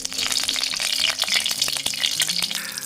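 Bird's eye and curly chilies fry in hot oil for sambal, giving a loud, continuous, close sizzle with a busy crackle and occasional stirring sounds.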